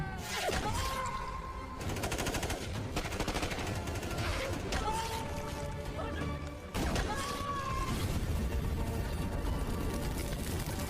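Rapid gunfire from soldiers in a tense film shootout, bursts of automatic shots cracking loudly over a dense score and effects, pausing briefly near the middle before erupting again.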